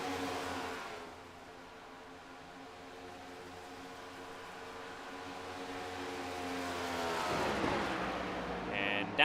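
A NASCAR race car in the iRacing video game drones at high revs, the engine pitch gliding steadily then dropping sharply near the end as it downshifts, fairly faint, with commentary under it.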